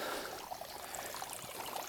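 Water running off beneath a small stone bridge beside a chapel, a steady broadband rush and trickle, moderately close and continuous with no voices.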